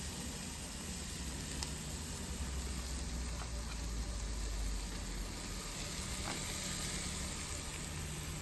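Burgers sizzling on a South African braai grill: a steady, dense hiss that runs without a break from start to finish, fairly close, with no talking.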